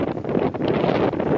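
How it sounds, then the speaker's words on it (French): Strong wind blows along the Costa Daurada seaside in Spain, buffeting the microphone in loud, continuous gusts that roar close and rough throughout. "dire qu'il y a du vent serait un euphémisme"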